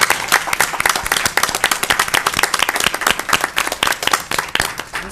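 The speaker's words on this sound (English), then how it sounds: "Let's give them a round of applause." Audience applause for educators standing at a school board business meeting: dense, sustained clapping from a roomful of people, loud and even for the whole stretch with no pause.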